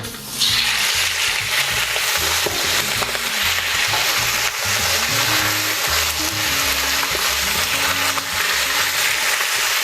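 Pork belly sizzles and spatters in browned caramelized sugar, a loud, close, continuous frying crackle with stirring and scraping layered through it, and no voices.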